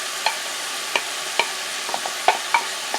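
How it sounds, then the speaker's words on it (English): A spoon stirs cactus pieces into frying onion in a pan, giving a steady close sizzle with several sharp scraping taps against the pan at irregular intervals. "We're going to stir that around just a little bit"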